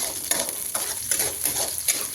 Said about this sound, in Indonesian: Nih setelah minyak panas bisa kita masukkan seperti ini ya teman-teman. Kita goreng-goreng seperti ini, cukup sebentar saja.